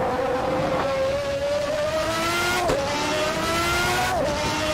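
A McLaren MP4/6 Formula One car engine screams at Imola in a racing video game, a loud continuous high-revving whine climbing steadily through the gears with brief dips at each shift, no talk.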